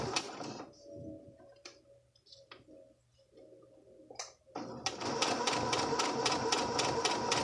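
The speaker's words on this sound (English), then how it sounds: "I'm stitching in that rolled section all the way down" A sewing machine stitches down the rolled coil of an invisible zipper, opening with short whirring bursts and scattered ticks between quiet pauses, then running steadily near and loud with a fast, even mechanical clatter for the final seconds.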